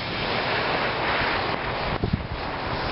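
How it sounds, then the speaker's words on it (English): Strong wind roars outdoors at night, a dense continuous rush buffeting the microphone, with a brief low thump near the end and no voices. "It's pretty windy out tonight too"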